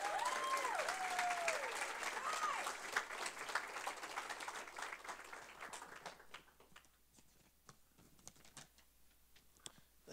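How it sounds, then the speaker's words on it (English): A campus crowd at a multicultural center ribbon cutting applauds a speaker's introduction, loud dense clapping with a few whoops at first, thinning to scattered individual claps toward the end. "Let's give a round of applause and welcome Joshua Hunt."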